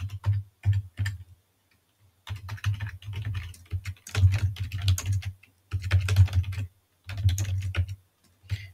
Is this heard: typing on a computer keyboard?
yes